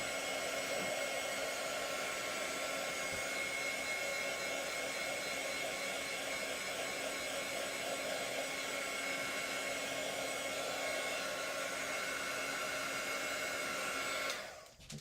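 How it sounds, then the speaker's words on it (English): A hair dryer drying paint blows continuously at close range with a steady whirring hum, then cuts off abruptly at the very end. "Okay, once again, we put the dryer on."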